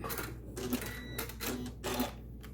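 A sewing machine run at higher speed stitches scrap quilt strips in three short, fairly quiet bursts of whirring with brief pauses between them.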